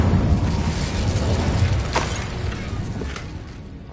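Incendio fire spell blast in Hogwarts Legacy: a loud, broadband whooshing burst of flame that swells at the start, flares again briefly, then tails off into a fading roar with no talk.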